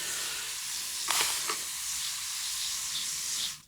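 A shaving brush whips WID's Tropical Coconut Lime soap into lather with a continuous, close, wet frothy swishing and fizzing, with a few louder strokes near the start and no voices.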